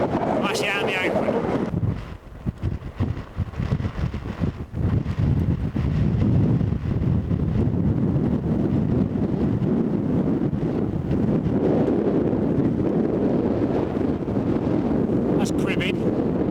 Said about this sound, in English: It's quite good fun, but it's ever so windy all of a sudden.